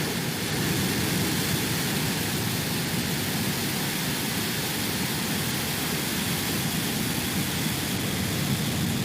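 A SpaceX Falcon 9 rocket lifts off, heard as a dense, steady roar like broadband noise that stays loud and unbroken throughout, with no voices over it.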